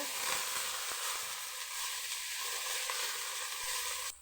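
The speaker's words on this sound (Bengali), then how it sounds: "পেঁয়াজ ভাইজা বাদামি কালার হয়ে গেছে সবাই আদা রসুন বাটা দিয়ে দিলাম" Browned onions frying in a pan as ginger garlic paste goes in for a chicken curry. A steady, bright sizzle hisses continuously up close, with faint stirring taps and no talking.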